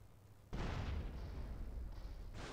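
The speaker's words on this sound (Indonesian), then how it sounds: "Ya, meledak beneran." Explosion in the game GTA San Andreas bursts in abruptly after half a second of quiet, then leaves a loud, sustained rumbling roar that carries on to the end with no talk over it.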